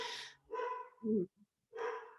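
A dog barks in a few loud, close yelps with short pauses between them, heard indoors during a coaching call with no talk over it.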